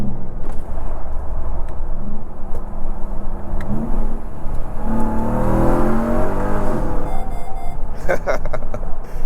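A 2023/2024 RAM 1500 TRX Havoc Edition truck engine revs hard and loud while accelerating, with a rising supercharger whine climbing over the roar; a voice talks over it.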